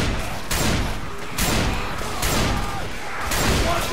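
Gunfire in a multiplayer shooter game: a dense, continuous clatter of shots in several loud bursts, close and harsh, with no clear talk.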